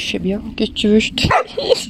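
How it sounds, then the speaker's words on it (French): A small pet dog barks a few short, close yips while someone talks over it. "Oh, il a aboyé."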